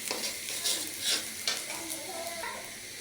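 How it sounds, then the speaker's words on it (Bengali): Onions sizzle and fry in a pan on the stove while being stirred, a steady broadband crackle with scraping accents at a close, moderate level and no talk. "এখন আমি চুলায় একটি প্যান বসিয়ে দিয়েছি, তার মধ্যে পেঁয়াজকে তুলে দিয়েছি। এখন আমি পেঁয়াজগুলো ভালোভাবে নেড়ে ছেড়ে নেবো।"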